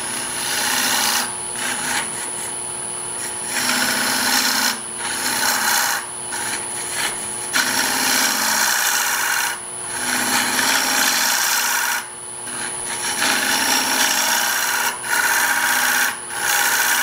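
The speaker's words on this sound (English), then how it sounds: "now I'm going to hollow out this area right in here" A bowl gouge hollows wood on a lathe in a woodturning shop, giving a loud, steady rasping scrape that comes in repeated passes separated by brief pauses, with no talking.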